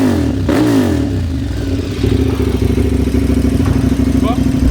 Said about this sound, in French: le bruit de la KTM